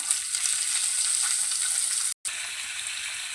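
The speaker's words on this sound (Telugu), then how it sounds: "పావు చెంచా జీలకర్ర పావు చెంచా ఆవాలు రెండు ఉల్లిపాయల్ని సన్నగా తరిగి వేసుకోవాలి" Finely chopped onions frying in a little oil with cumin and mustard seeds, a bright steady close sizzle with faint crackle, briefly cut off once, no voices.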